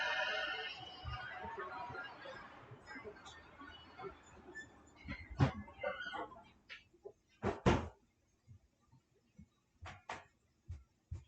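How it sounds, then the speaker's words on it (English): A house garage door opens with a rolling rumble that fades out, followed by scattered clunks, knocks and footsteps nearby, with a faint voice in the background. "so you can see me open up the garage door. You'll hear it open."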